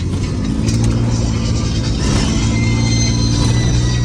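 A 1968 Jaguar 420G engine running while driving, a steady low rumble with road noise, continuous and close, without clear revving peaks.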